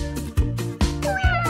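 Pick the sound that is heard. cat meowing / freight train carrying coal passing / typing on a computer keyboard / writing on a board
cat meowing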